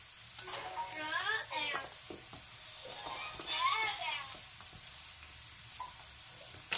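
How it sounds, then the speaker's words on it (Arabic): A chicken escalope sizzles softly in a pan of hot oil, a quiet, continuous frying hiss with a few faint clatters and soft background voices. "وهوني حطيت سكالوب تيب"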